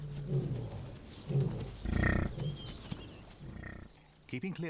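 Lions closing in on a herd from all sides in the wild, with low growls and snarling roars in short bursts, fairly close, ending in a brief scuffle of sounds.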